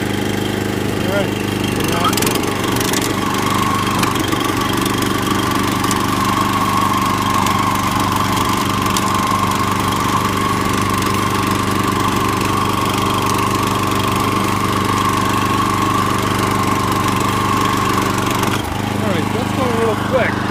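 A Eurosystem RTT3 tiller's small engine runs steadily and loudly up close for about twenty seconds, holding a constant drone with a few faint clicks and knocks before a brief drop near the end.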